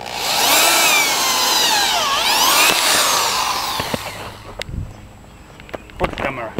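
Power drill boring a bolt hole during furnace repair, a loud rising and falling whine for about four seconds that cuts off, followed by scattered clicks and knocks; a voice talks over it.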